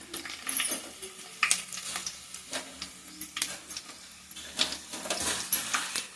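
Mustard seeds and dried red chilies frying in a pan of hot oil, giving soft crackles and sharp little pops scattered at an uneven rhythm, close and fairly quiet.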